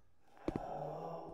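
The monster in the Roblox horror game The Mimic breathes in faint, close heavy gasps, two quick breaths over a quiet, low background hum.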